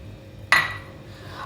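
Dried plums (aloo bukhara) tumble into a kadai while imli chutney is being made, giving one sharp metallic clink that rings briefly before fading into quiet kitchen ambience.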